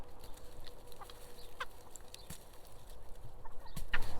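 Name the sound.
chickens clucking in a homestead chicken coop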